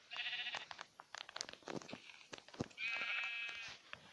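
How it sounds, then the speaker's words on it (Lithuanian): Video game sheep bleat several times in quick succession, loud and close, with a long drawn-out bleat near the end and no talking. "Avys, dar viena avis."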